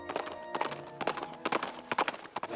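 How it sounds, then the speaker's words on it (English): Horse-drawn carriage hooves clip-clop on the cobbled streets of medieval Bruges, a steady, evenly spaced run of crisp hoof strikes at moderate distance over faint street ambience. "the ever-present clip-clop of those horse-drawn"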